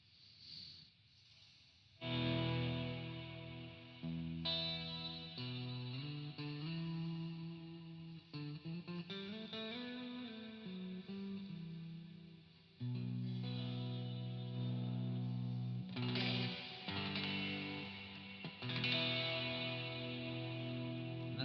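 An electric guitar played through a pedalboard with slight overdrive and reverb turned down rings out in sustained chords and melodic phrases, notes bending and holding with a warm, gently driven tone and no talking.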